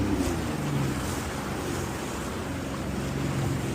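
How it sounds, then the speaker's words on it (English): Open-ocean surf and wind rush around a jet ski at sea off the Orange County coast, a steady, loud wash of water and breeze with low rumbling underneath. "We in the middle of the ocean, babe."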